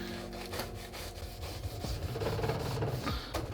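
A knife saws lengthwise through a croissant, giving close, rhythmic rasping and crackling strokes of the flaky pastry with no talk.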